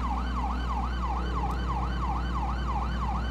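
A police car siren from Grand Theft Auto V wails in quick, regular up-and-down sweeps over a steady low engine hum, continuous and prominent throughout.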